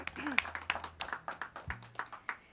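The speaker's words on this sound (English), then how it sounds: "give yourselves a big round of applause" A small audience at a showroom performance gives sparse, rhythmic clapping, distinct individual claps rather than a full roar, fairly quiet over a couple of seconds.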